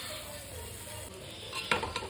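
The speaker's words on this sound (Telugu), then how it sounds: "బియ్యంతో పాటు శనగపప్పు కూడా మగ్గిచ్చేసేసి ఒక 5 మినిట్స్ మూత పెట్టేసుకొని మగ్గిచ్చేద్దాము" Rice and soaked chana dal sautéing in oil in a pan for garlic rice, a steady soft sizzle with stirring scrapes and a couple of sharper utensil clinks near the end.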